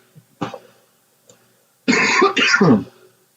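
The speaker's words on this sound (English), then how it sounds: "Pardon my cough." A short throat clear followed by a couple of close, harsh coughs in quick succession.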